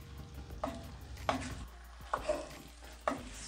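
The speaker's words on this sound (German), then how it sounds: "Jetzt tun wir es nochmal gleich ein bisschen rumrühren und jetzt gleich ein bisschen anbraten nochmal." Gyros meat with garlic sizzles quietly in a Dutch oven while being stirred, several clacking scrapes of a utensil against the pot over a soft steady frying hiss.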